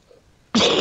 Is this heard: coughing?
yes